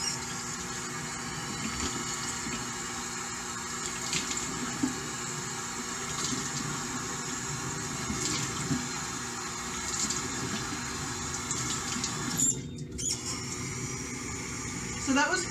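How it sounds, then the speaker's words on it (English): Running water splashes as skincare product is rinsed off a face at a sink, a faint, continuous trickle and splash with small bursts and a brief pause near the end. "I'm just going to rinse it off now."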